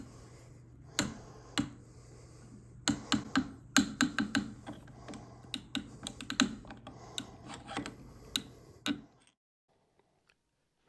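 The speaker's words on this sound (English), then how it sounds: "I use a stainless steel hollow rod to help me crank this bolt into the post" A bolt is cranked into a hardwood stair-railing post with a stainless steel hollow rod, giving a series of sharp, close clicks and knocks in an irregular rhythm for about nine seconds, then near silence.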